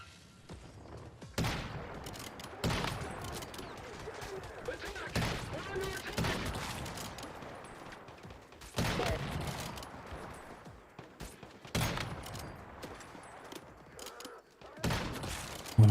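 Gunfire in the video game Once Human: several separate bursts of shots spaced a few seconds apart, loud and sharp against quieter game ambience, with a voice talking between them.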